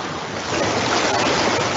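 Ocean waves and wind as a steady broadband wash of surf, loud and close, rising slightly halfway through with a soft rushing texture and no voices.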